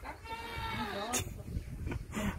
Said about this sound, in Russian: Боже, как ты кричишь. Козы.